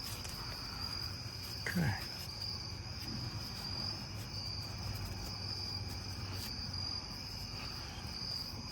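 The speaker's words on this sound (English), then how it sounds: "Bugs are attacking." Insects chirp steadily outdoors beside a Ford F250 rear axle under repair, a continuous high cricket-like trill over low background hum, with a brief spoken word from a nearby person.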